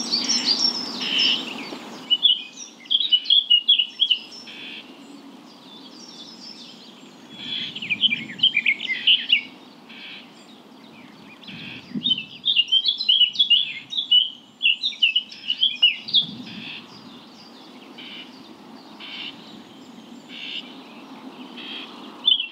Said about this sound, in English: we were surrounded by birdsong from greater whitethroat, blackcap, linnet and garden warbler